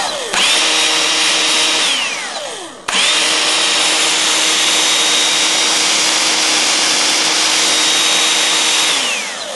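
A dismantled 6-inch saw motor wired to a battery: a loud, close, high-pitched electric whine that spins up, winds down briefly, restarts, then runs steadily before slowing to a stop.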